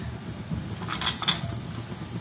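Bottle gourd pieces tipped into a pan over low gas and stirred with a utensil, giving a few soft clinks and scrapes of metal against the pan amid quiet kitchen background.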